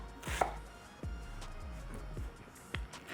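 A knife chops vegetables on a cutting board, making quick uniform lengthwise cuts. Several sharp, close knocks land at uneven intervals over a quiet background with no voices.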